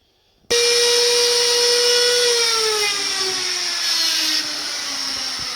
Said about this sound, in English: Then we set on the table of the router the blade to just the depth of the hinge.